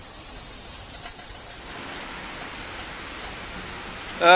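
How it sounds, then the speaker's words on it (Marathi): Steady heavy rain hiss in Mumbai fills the clip, with a few bird calls at the very end. "सध्या देखील मुंबईमध्ये पावसाचा जोर कायम आहे"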